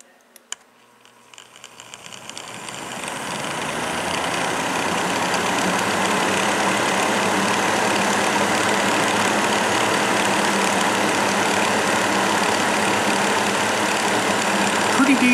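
Breezeway MBF-907 9-inch box fan switched on at its low setting, the motor whir building over the first few seconds into a steady, broadband hum and rush of air that holds level to the end.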